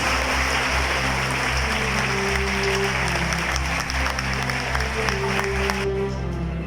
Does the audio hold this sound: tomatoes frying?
no